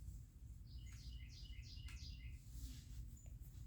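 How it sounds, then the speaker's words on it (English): Birds sing outdoors, a series of several quick, bright chirping phrases in the middle distance over a low steady background hum, with no talking. "You heard the birds outside"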